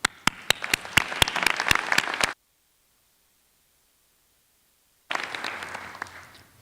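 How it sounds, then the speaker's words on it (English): Graduates at a School of Sustainability fall convocation giving themselves a round of applause. Sharp close claps ride over a broad crowd wash, then a gap of near silence before the applause resumes. "please take a moment to give yourselves a round of applause"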